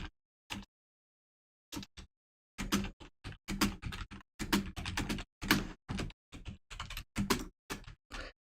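Bursts of clicky computer keyboard typing close to the mic, starting after a short silence and running in quick uneven clusters of keystrokes, alone without talk.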